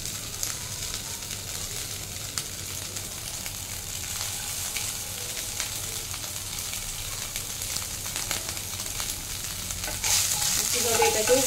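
Small chicken pieces frying in a pan of hot oil for mixed fried rice, a dense, steady crackling sizzle that holds close and even throughout and swells slightly louder near the end.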